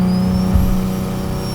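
Single-turbo Infiniti G37 sedan with a 3-inch titanium exhaust, running as a loud, close, steady engine drone with a high turbo whine above it, briefly shifting in pitch.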